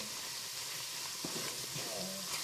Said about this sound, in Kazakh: бізде майымыз шыжғырылып жатыр